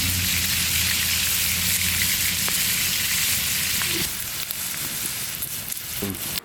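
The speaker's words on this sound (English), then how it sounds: "we're gonna cook all of our meat over here on the cast iron" Meat frying on a cast iron pan outdoors, giving a steady close hiss and crackle with a few clinks near the end.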